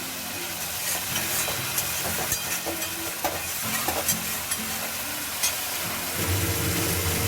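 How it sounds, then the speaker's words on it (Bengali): Katla fish curry sizzling loudly in a pan as water goes in, a steady bright hiss with scattered crackles and a few soft knocks, no talking. "এবার আমি জল দিয়ে দিচ্ছি।"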